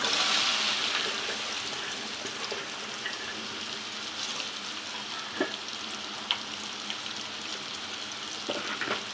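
Sliced okra frying in oil with mustard seeds and cumin, giving a steady soft sizzle with occasional stirring clinks and scrapes from the pan, close and alone without voices.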